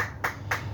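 A church congregation applauding during worship, heard as a brief burst of clapping with two swells over a steady low hum, fairly faint and without talk.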